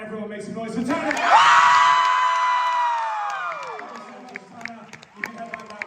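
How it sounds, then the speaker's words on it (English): An event audience breaks into loud cheering and whoops that swell then slowly fade over several seconds, with a high sustained shout riding on top and scattered claps and voices as it dies down. "Everyone make some noise for Tanner."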